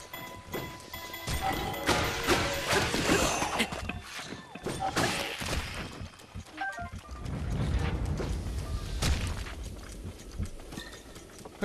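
Horse hooves clip-clopping and galloping through Breath of the Wild game terrain, with scattered crashes and thuds mixed in, fairly busy and steady throughout.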